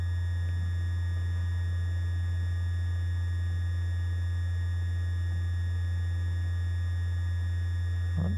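An ArcSyn synthesizer holds a steady sustained tone, with oscillator 2 frequency modulated at a slow rate by a small amount, giving a smooth, nearly unchanging hum with faint high overtones.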